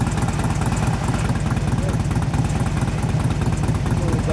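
A 2004 Harley-Davidson FLHT Twin Cam touring motorcycle runs steadily with a low, loping, uneven idle rumble for a few seconds, close by, with no talking over it.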